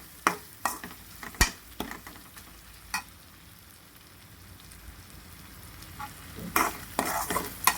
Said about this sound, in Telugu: మనం మ్యారినేట్ చేసుకున్న చికెన్ ఇందులో వేసేసుకుంటున్నాను